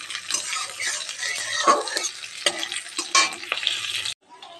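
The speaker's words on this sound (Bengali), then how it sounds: "একটু ভালো করে নেড়ে দিতে হবে" Panch phoron with green and dried chillies sizzles in hot oil while being stirred, giving a bright crackling hiss with scraping strokes close by that cuts off abruptly near the end.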